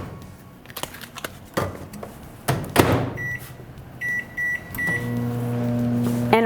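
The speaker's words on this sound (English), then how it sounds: "put it in the microwave for 90 seconds" A microwave oven heating a brown rice package: door clunks and handling knocks, a few short beeps, then the steady hum of the oven running loud and close.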